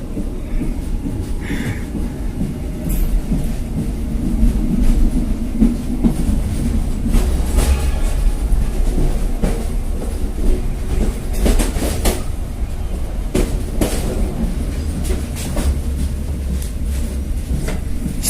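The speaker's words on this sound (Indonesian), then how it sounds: "kereta api Siliwangi ini masuk di jalur 1" The KA Siliwangi passenger train runs on rails at Ciranjang station in Indonesia, giving a loud, steady rumble with repeated clickety-clack wheel beats and metallic clanks throughout.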